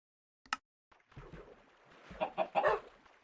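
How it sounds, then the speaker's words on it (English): A chicken in the Minecraft video game clucks: one sharp sound comes first, followed by a run of louder clucks that build toward the end, close and with no talk over them. "hopefully that is just a chicken swimming out there"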